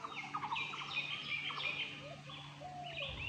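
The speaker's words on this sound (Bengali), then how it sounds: "এই যে কোকিলের সাউন্ডটা" Asian koel calling faintly in the distance among other chirping birds in quiet outdoor surroundings, with rising whistled notes repeated a few times.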